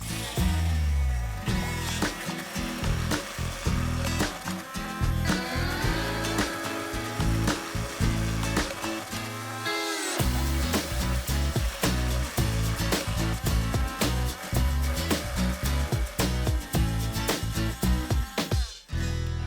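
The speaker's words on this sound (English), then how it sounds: "I'll give this a blend" Blender running at full speed through cooked-down tomatoes for a creamy tomato pesto pasta sauce, a loud continuous whirring roar with a brief dip midway and cutting off at the end.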